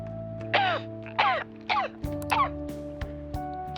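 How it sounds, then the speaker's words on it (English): A game character in Persona 5 Royal coughs several times, about five short raspy bursts spaced roughly half a second apart, close and clear over a quiet hum of background music. "Sorry, can't seem to shake this cough."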